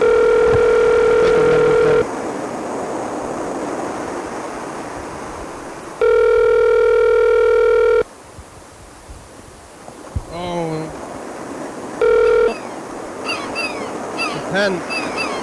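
A telephone gives loud steady tones in separate bursts, broken by stretches of hiss and brief warbling dialing beeps, with some faint talk in between.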